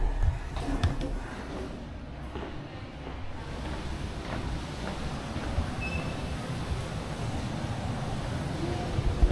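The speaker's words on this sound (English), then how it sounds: "Sounds like a waterfall here." Steady rushing roar like a waterfall, a continuous broadband wash of noise at a fairly loud, even level with a few faint clicks, no voices present.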